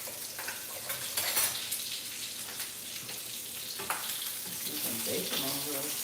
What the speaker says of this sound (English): Bacon on real quick.